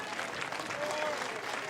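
A crowd at a college softball regional between Oklahoma and UMBC in Norman claps steadily, a dense, even wash of applause lasting the whole moment.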